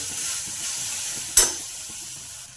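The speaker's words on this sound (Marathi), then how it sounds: "हे आपण टोमॅटो कांद्यामध्ये टाकून घेतलं। हे चांगलं आता याच्यात परतून घेऊ।" Tomato and onion sauté in a pan with a steady, close hiss of frying. One sharp clank of a utensil against the pan sounds partway through, and there is no talking.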